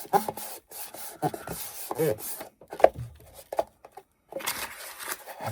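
Paper being rubbed by hand onto a tin can for a primitive Christmas craft, giving soft, intermittent scraping and rustling strokes with short pauses, close and fairly quiet, no talking.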